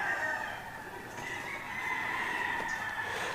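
A red kelso gamefowl rooster on a game farm crows in a long drawn-out call, then gives softer clucks, heard fairly close against faint background noise with no speech.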